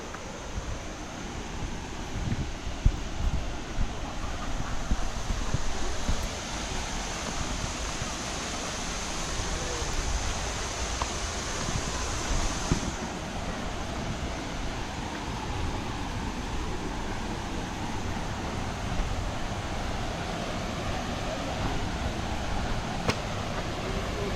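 Haew Suwat waterfall in Khao Yai National Park, Thailand, running with a modest flow, gives a steady, unbroken rushing roar that holds at moderate loudness from start to finish, with no voices.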